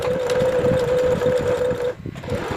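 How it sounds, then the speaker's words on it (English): A Juki portable sewing machine hums and rattles rapidly in a steady zigzag stitching run, sewing elastic to fabric, pausing briefly near the end before starting again. "I am using my Juki portable sewing machine here."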